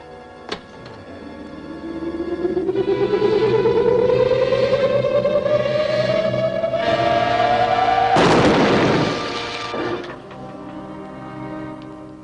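A 1940s film-serial annihilator beam weapon fires in a sci-fi sound effect. A sharp click leads into a long, loud rising whine with rough overtones, cut by a harsh crackling burst that slowly fades away.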